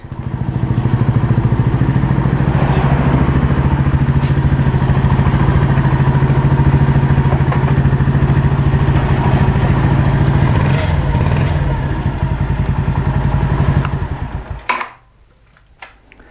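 A Mash Fifty motorcycle with a replacement engine runs loud and close at a steady, clattering idle for about fourteen seconds, then cuts off abruptly, leaving near silence with a few faint clicks.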